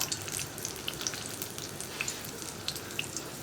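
Stuffed chilli bajji dropped into hot oil a few at a time, giving a soft, steady sizzle with scattered small pops and crackles, close and fairly quiet, with no talking.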